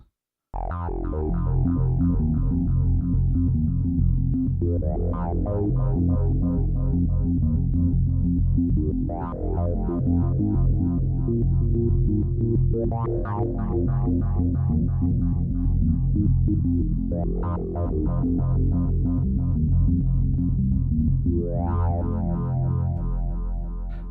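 A thick, buzzy Novation Bass Station synth bass patch, played from an Ensoniq EPS-16 Plus sampler, plays sustained notes, its filter opening in repeated bright sweeps every few seconds, loud and alone.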